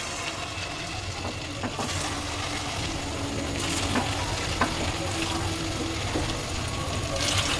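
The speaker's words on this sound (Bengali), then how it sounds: "তেলটা আমার গরম হয়ে গেছে, এবার আমি ভাজবো।" Paneer Maggi pakoda frying in hot oil in a wok: a loud, steady sizzle with bubbling crackle and occasional clicks and stirring scrapes, continuous and close, no voices.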